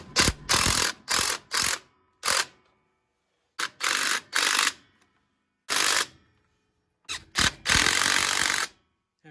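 Ratchet tightening the four backing plate nuts on a Ford 9-inch axle during a 31-spline axle swap, with loud bursts of rapid clicking separated by short pauses, close up and with no talk.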